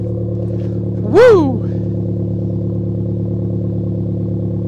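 Car engine with an aftermarket exhaust blips once sharply near the start, then idles steadily under a loud constant drone; a person whoops over the rev.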